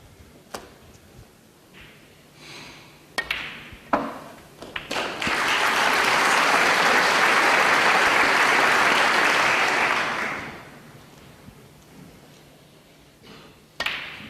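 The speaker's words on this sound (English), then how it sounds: "Very knowledgeable crowd applauding frame ball." A snooker crowd applauds at a 2013 professional match, a sustained burst of clapping lasting several seconds after scattered ball clicks and taps, then fading back to quiet.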